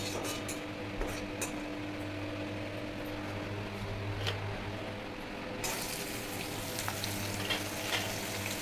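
Onions sizzle as they fry in hot oil with whole garam masala and bay leaves, a steady crackling hiss throughout, with occasional utensil clinks, and the frying grows brighter and louder partway through.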